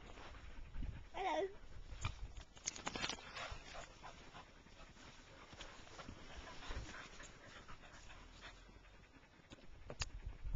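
Border collies and a spaniel play with hoops outdoors, with panting, a short whimper, scuffling and thumps of movement, while people talk faintly in the background throughout.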